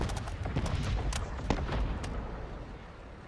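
A huge explosion in the Call of Duty MW3 video game rumbles as a deep sustained boom, with scattered crackling blasts and debris over the low roar, fading slowly.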